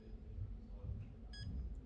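Low-reading alarm of a Portagauge 6 thickness gauge gives one short, faint electronic beep, with a softer second chirp just after, over a steady low background hum.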